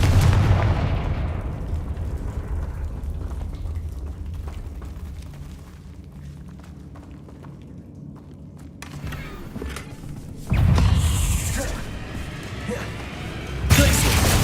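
Explosive spell blasts in the Hogwarts Legacy video game: a heavy boom opens and decays slowly, then quieter rumbling follows, with two more loud bursts near the end.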